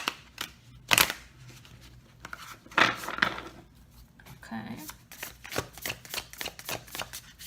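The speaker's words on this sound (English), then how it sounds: "one shuffle for the camera" Tarot cards are shuffled by hand in quick riffling bursts and soft slaps, close and fairly quiet, with a brief spoken word in between.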